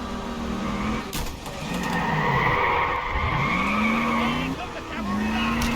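A car skids hard on an e-brake in a video game, with a loud, sustained tyre squeal that bends in pitch and is layered over engine noise and game sounds.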